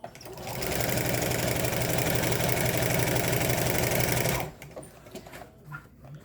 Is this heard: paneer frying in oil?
no